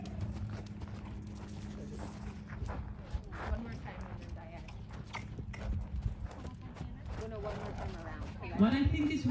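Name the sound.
horse hooves while cantering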